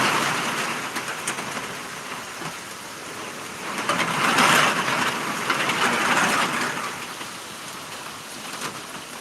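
Steady tropical storm rain in Florida, a continuous wash of falling water that rises and eases slightly in intensity.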